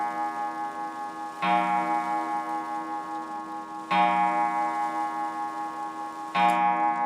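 A restored German clock striking its gong on the hour, three resonant strikes spaced a few seconds apart, each ringing out and slowly decaying over steady ticking, close and clear.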